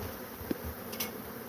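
Africanized killer bees buzzing around a honeycomb on a ranch, a faint steady drone with a couple of brief louder passes near the microphone.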